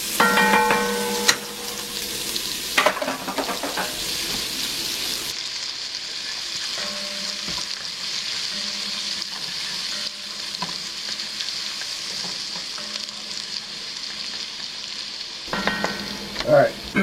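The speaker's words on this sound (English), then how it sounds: "Cook that celery up." Celery fries and sizzles steadily in a pan while a utensil stirs it, with scraping and clatter at the start and end and a sustained hiss filling the middle.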